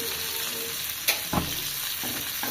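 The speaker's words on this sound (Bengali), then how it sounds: "শাক ভাজা হয়ে গেছে" Leafy greens (shak bhaji) fry in a pan in a home kitchen, giving a continuous bright sizzle with a couple of soft stirring clacks and scrapes, close and alone.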